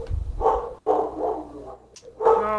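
A dog barks nearby in a few loud, sharp yips and woofs with brief gaps, indoors during a gaming session.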